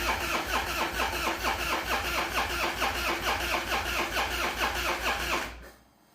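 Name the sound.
Harley Dyna motorcycle engine starting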